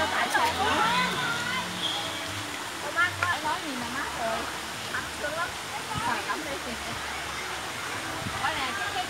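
A mountain stream at Suoi Tranh on Phu Quoc island rushes and splashes in a continuous broad hiss, with people talking and calling out over the water.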